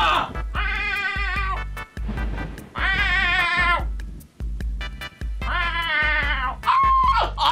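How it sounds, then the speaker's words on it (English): A cat in the video game Stray meows repeatedly when the meow button is pressed: a series of loud, drawn-out meows about a second apart, close and clear, over low rhythmic thumps from the game. "There's a meow button."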